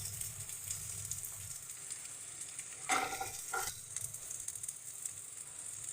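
Curry leaves are dropped into hot oil, bursting into a sharp crackling sizzle that flares briefly and then settles into a steady low fry, close up and without speech.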